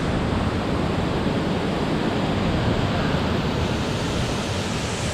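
Pozo Azul waterfall in Minca, a loud unbroken roar of rushing water that fills the space evenly from start to finish, with no voices.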